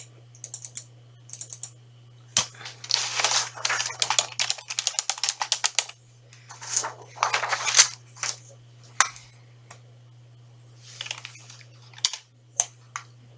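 Typing on a computer keyboard while entering a vendor name into a form field, bursts of quick close clicks separated by pauses over a low steady hum.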